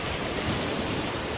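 Sea waves break and surge steadily on a Mumbai beach, a loud continuous wash of surf with a little wind noise across the microphone and no talking.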